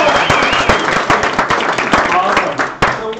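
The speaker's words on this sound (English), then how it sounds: "So a big round of applause for everybody here." An audience at a Portfolios and Pints event at Wacom breaks into a round of applause, dense clapping and cheering close by, with a voice speaking over it.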